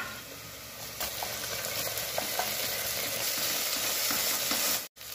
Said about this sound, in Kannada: ಈ ಸಮಯದಲ್ಲಿ ನಾವು ಸ್ವಲ್ಪ ಜಿಂಜರ್ ಗಾರ್ಲಿಕ್ ಪೇಸ್ಟ್ ಅನ್ನ ಹಾಕೊಳ್ಳೋಣ